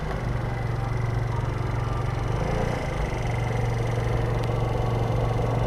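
A 2007 Diamo Retro 50 scooter with a GY6 engine idling on the road, a steady low putter with a constant drone and no talk over it.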